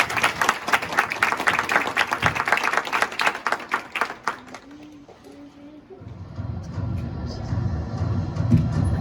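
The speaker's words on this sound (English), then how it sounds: "let's give her a round of applause" Audience applause at a children's martial arts black belt ceremony, a burst of clapping for several seconds that fades, followed by murmuring crowd noise in a hall.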